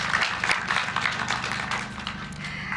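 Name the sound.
audience applauding teachers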